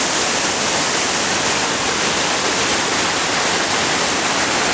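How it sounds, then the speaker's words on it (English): The waterfall on Alelele Stream in Maui roars as a steady, loud, broad rush of falling water, constant throughout with no voices. "waterfall at Alelele Stream"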